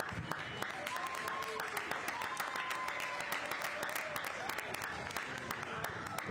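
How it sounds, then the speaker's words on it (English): Stadium crowd at a Tacoma Defiance versus Whitecaps FC 2 soccer match applauding and cheering after a defensive clearance, a steady broad roar of clapping mixed with voices, continuous and moderately loud throughout. "The crowd very pleased with the defending done by Cody Baker."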